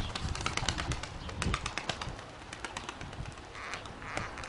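Tumbler pigeons flap their wings in short bursts of fluttering, with soft irregular wingbeats and occasional faint cooing, somewhat distant and quiet against outdoor background.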